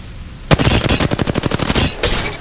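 Rapid automatic gunfire in the Apex Legends video game, a loud burst of rattling shots for about a second and a half, then a short gap and one more shot, with no talking.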